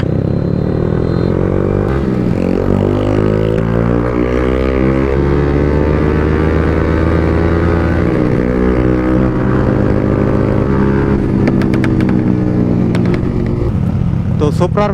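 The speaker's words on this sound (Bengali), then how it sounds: "আমার বাইকেও এক্সস্ট। তো দারুণ একটা সাউন্ড বাইর হইতেছে।" A motorcycle fitted with an aftermarket exhaust, heard while riding, with a loud, close engine drone whose pitch rises and falls through gear changes and revs, a rider's voice talking over it at times.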